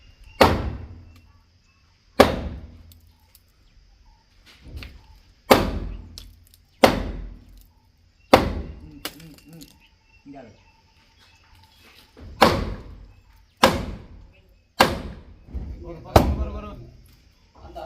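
Repeated sharp hammer knocks on a roof during roof construction work in Jaffna, about a dozen loud close strikes at irregular intervals of one to two seconds, each ringing out briefly.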